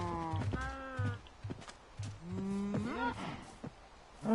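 Cows in the game Minecraft Bedrock Edition moo several times in short, varied calls, some low and drawn out and others rising in pitch, with quiet gaps between them.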